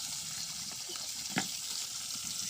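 Spices stirred together and frying in hot oil, a steady soft sizzle with occasional scraping stir strokes, fairly quiet and close with no talking.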